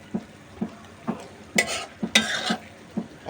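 Kajoli fish is stirred in a wok with a spatula, giving regular scraping strokes about every half second over a soft sizzle, with two louder, longer scrapes in the middle.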